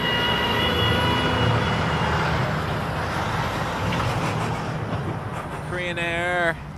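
A heavy Korean Air Boeing 787-9 Dreamliner arriving from Seoul lands at Toronto Pearson, a loud steady jet roar with rising whine tones lasting throughout, nearby and dominant.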